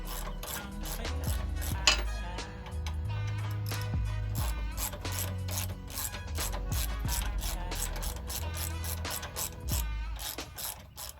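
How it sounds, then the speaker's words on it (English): A ratchet wrench loosens a long 9/16 sway bar bolt on a 2003 Chevy Suburban with a long run of rapid, evenly spaced ratcheting clicks close up, over low steady background tones. "The 9/16, we're going to go ahead and take this bolt out."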